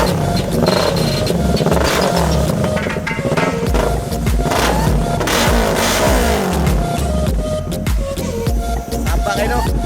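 A Kawasaki Ninja 650 motorcycle fitted with a new Tri-R muffler exhaust revs hard up close, the engine roaring and surging in repeated throttle blips with a rough, throaty rasp.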